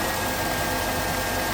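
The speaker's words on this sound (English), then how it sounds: "Just making sure everything's turning okay and the grinding sound's gone and it seems to be idling okay." A 2006 Chrysler Town & Country engine idles just after an A/C compressor replacement, giving a steady, even hum and light vibration with no breaks or talk.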